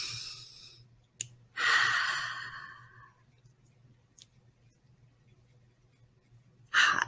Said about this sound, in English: take a very deep breath, what you would consider to be a deep breath